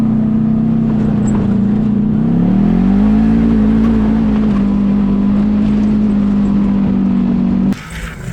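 A Honda Pilot FL400r off-road vehicle drives at speed over rough ruts, its engine droning loud and steady with pitch rising and settling as it rides over the bumps, then cutting off abruptly near the end.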